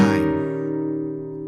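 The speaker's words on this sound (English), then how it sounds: "So the 2 rasgueados will sound like this" A single flamenco guitar rasgueado strum on a nylon-string guitar, a bright burst of stacked strokes in the first fraction of a second that then rings out as a sustained chord, close and alone.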